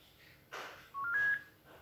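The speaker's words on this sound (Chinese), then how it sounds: "请将智慧型手机的背面靠近监测器，直到听到两个声响或震动" A smartphone held against a FreeStyle Libre 2 glucose sensor gives short electronic beeps as it scans, a few thin tones close together over quiet room noise.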